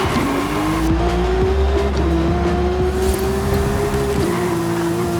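Scooby Doo Mystery Machine van in Forza Horizon 5, its engine droning loud and steady at high revs while racing, with a rising pitch and faint tire noise, no talking.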